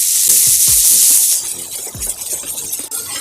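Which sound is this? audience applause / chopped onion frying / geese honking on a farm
chopped onion frying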